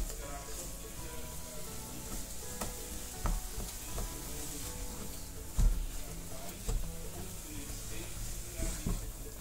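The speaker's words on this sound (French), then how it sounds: "Je mélange le tout jusqu'à obtenir une pâte homogène." Churro dough of flour and liquid is stirred in a pan until smooth, giving a soft, continuous scraping and squelching close by, with a few louder knocks of the spoon against the pan.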